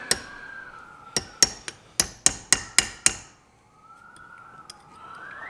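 A hammer strikes a steering cylinder and tie rod on a Case David Brown 1394 tractor being restored, about nine sharp metallic blows in a quick irregular series, close and loud in a workshop, then quiet.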